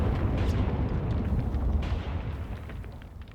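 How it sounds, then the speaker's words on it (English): Explosive charges detonate in the tactical war game Graviteam Tactics: Mius Front, a heavy rumbling boom with dense crackling debris that rolls on and slowly fades over a few seconds, no voices. "Maybe we are running into enemy sappers with explosive charges."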